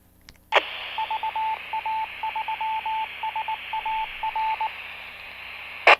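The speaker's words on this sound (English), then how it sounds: "That's Morse code." An amateur radio repeater sends its Morse code identification as a loud, clean run of short and long beeps over a hissing carrier, framed by squelch bursts at the start and end.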